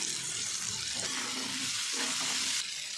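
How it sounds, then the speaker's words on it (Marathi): Tomatoes sauté in a hot pan with a little salt, giving a steady close sizzle with faint stirring scrapes throughout and no voices. "आणि चांगलं परतून घ्यायचं घातल्यानंतर थोडंसं मीठ टाकून घेते जेणेकरून टमाटा लवकर मऊ व्हावं"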